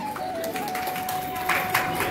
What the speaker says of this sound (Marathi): एकदा जोरदार टाळ्या याच्यासाठी